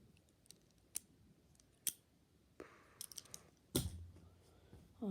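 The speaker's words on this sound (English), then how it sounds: "I've been fiddling with this pen. If you're wondering what that clicking is, I've just broke it." Small sharp clicks from a broken pen being fiddled with, scattered single and double taps near the microphone, with a rustle and a louder handling clatter midway.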